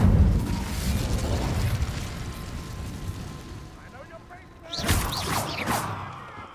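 Incendio fire spell cast in the video game Hogwarts Legacy, a sudden loud whooshing burst that flares up after a stretch of low rumbling game ambience.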